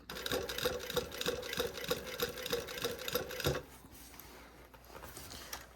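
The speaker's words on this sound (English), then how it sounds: "we're still sewing all through leather, so we haven't hit the lining yet" A sewing machine stitching through thick leather on a bag seam, a close, rapid, steady mechanical chatter of needle strokes for about three and a half seconds that then stops, leaving quiet room sound.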